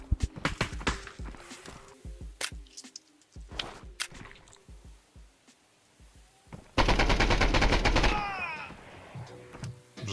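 Gunfire in the video game Contractors Showdown: Exfil Zone, with sharp single shots and short bursts scattered throughout, then a sustained loud automatic burst lasting over a second, followed by ringing and shell-like tinkles.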